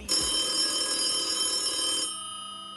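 A telephone bell rings loudly and continuously for about two seconds, a bright shrill metallic trill that stops abruptly and leaves a quieter fading hum.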